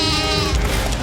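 A goat bleats once, a loud wavering call close by, short and nasal, with no talk over it.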